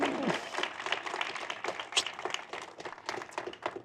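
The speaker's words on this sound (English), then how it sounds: "Can we get a round of applause for that?" Wedding ceremony guests break into applause just after the vows, a scattered burst of individual claps that is fairly quiet and slightly distant, tapering unevenly over a few seconds.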